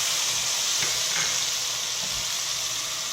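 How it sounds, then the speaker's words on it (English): One tablespoon of minced garlic cooking in a pan, a steady, moderately loud sizzling hiss with a few faint soft knocks, no voices. "Just cook the garlic first, guys."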